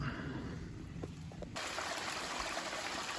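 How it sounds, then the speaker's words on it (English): Water running down a rocky waterfall along a trail, a steady close rushing wash that grows louder and fuller midway through. "I have to walk down this waterfall, through all these rocks, through all the water."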